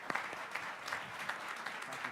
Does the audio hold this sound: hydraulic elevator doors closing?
no